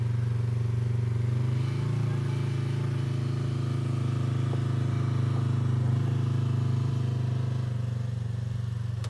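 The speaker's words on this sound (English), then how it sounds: "But this RZR just sort of creeps right up this." A Polaris RZR side-by-side slowly creeping up rocks during rock crawling at Prison Hill, Nevada, its engine holding a steady low drone throughout, fairly loud and continuous with no talking.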